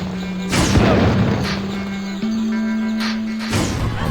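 Rocket explosions in a Commando 3 video game, a series of loud booming blasts over a steady low game hum, with bursts at roughly half-second, one-and-a-half, three and three-and-a-half seconds.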